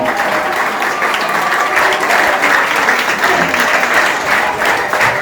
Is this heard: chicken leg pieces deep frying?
no